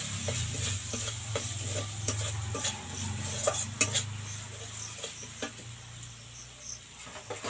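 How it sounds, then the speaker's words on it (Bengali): Whisked yogurt poured over spices frying in oil for katla fish kalia, then stirred: continuous sizzling hiss with a low frying rumble, and repeated spoon scrapes and clicks against the pan throughout. "দইটাকে ভালো করে ফেটিয়ে নেব। দিয়ে দেব মশলার উপরে"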